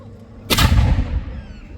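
A replica historic cannon, a copy of one found off the Yorkshire coast near Ravenspur, fires once at a castle history festival: a single loud, close boom with a sharp crack that rolls off into a long fading rumble.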